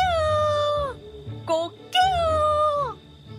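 A voice imitates a rooster crow in a Korean folk tale audiobook, drawing out two wavering, sliding calls, one brief and one longer and falling.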